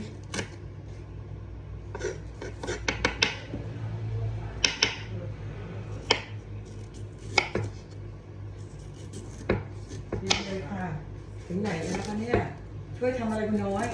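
Coriander is chopped and pounded in a home kitchen: a series of sharp, close knocks comes in irregular bursts, with faint voices in the background.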